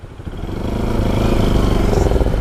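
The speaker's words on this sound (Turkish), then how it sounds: "Ben motoru çalıştırıyorum" A Honda Varex motorcycle engine catches and climbs into a rough, rising rev, its pulsing mechanical rumble building in loudness over a couple of seconds, close by and without talk.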